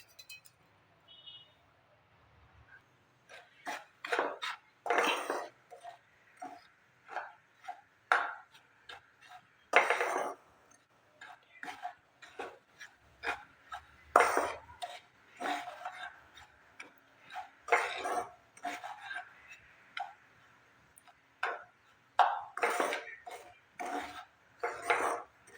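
Ground moong dal powder is dry-roasted in a kadai with a steady series of scraping strokes and light metallic clinks from stirring. The sounds are quiet, close and irregularly spaced, with no speech.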